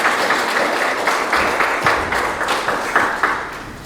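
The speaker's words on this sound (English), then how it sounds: "So go ahead and give you guys a round of applause." Applause from an audience honoring scholarship recipients at a graduate scholarship program ceremony, a steady wash of clapping with scattered louder claps, no speech over it.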